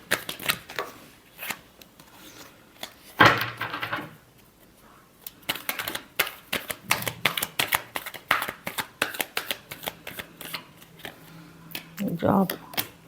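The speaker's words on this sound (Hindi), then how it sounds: "Last shuffle." Tarot cards shuffled by hand in quick riffling bursts with a few sharper slaps and pauses, close and crisp, with a voice speaking softly in the background.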